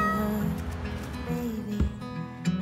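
A cat meows in a Christmas-themed TV advert, a short plaintive call followed by fainter softer mews over a quiet musical background, with no one talking.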